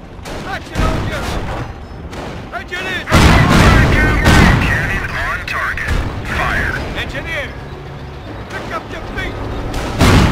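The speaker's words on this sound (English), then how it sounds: "Cannon on target. Fire." Cannon blasts and rifle gunfire from a World War II Normandy invasion battle in the strategy game Company of Heroes, loud repeated booms and cracks layered over shouted soldier voice lines.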